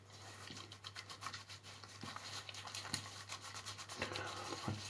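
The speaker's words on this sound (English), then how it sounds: "Then you wet it and you rub." Palmolive shave stick soap is rubbed on wet skin in a steady, faint scrubbing rasp with quick back-and-forth strokes, close to the microphone and with no talking.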